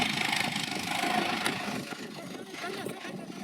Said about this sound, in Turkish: Traktör gelsin.